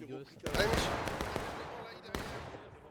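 Musket gunfire in the Civil War video game War of Rights, during a 270-player battle on the Reno's Fall map: a couple of sharp distant shots ring out with rolling echo, while someone talks over the battle.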